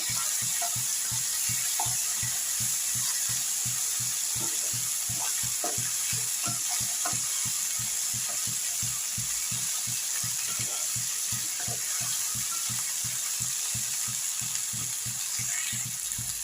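Potatoes fry in a pan with a constant soft sizzle, while a spoon stirs them in a quick, regular run of scraping taps close by.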